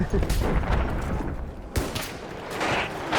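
Gunfire in a Battlefield 1 match, with sniper fire mixed in: dense bursts of shots and sharp cracks, one loud report near the middle, under excited talking.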